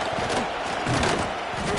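A stadium crowd roars at a Texas A&M vs LSU college football game, a steady broad swell of many voices sustained loud throughout, with a commentator's voice faintly under it.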